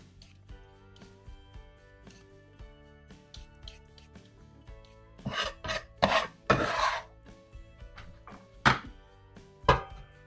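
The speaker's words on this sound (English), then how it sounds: "So after you get your steak seasoned, we're just going to peel this potato. We're going to run it through a box grater." A peeled potato is rasped against a box grater in quick, scratchy bursts. Quiet strokes come first, then several louder, sharper ones, close up, over faint background hum with no talking.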